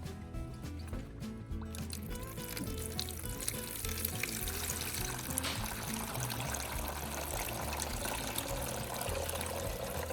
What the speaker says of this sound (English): pour all the liquid from the battery into a plastic container